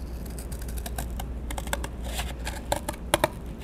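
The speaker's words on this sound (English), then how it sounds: "So just take your scissors," Scissors cut along drawn lines in paper for a DIY ramp walker toy, a close run of small crisp snips and rustles, irregular and quiet, over a low steady background hum.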